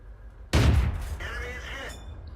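A single sharp gunshot, fired at a target in a shooting game set in the WindStorm City of the Chi-To, cracks out loudly and then rings off in a reverberant tail that lasts over a second.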